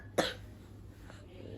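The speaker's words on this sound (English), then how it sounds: "Oh, cough." A child gives a single short cough, faint and close, in a quiet room with a low background hum.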